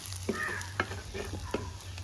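Ingredients for a Jaffna-style chicken rice porridge are sautéed in a clay pot: a faint steady sizzle with a few soft stirring knocks, no talk.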